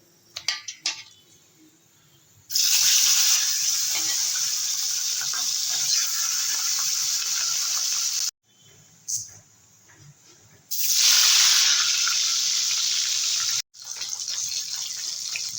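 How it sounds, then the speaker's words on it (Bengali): Fish pieces rubbed with salt and turmeric sizzle loudly in hot oil in two long bursts of crackling hiss, with quieter gaps and faint clatter between them. "মাছগুলোকে এবারে ভেজে নেবো"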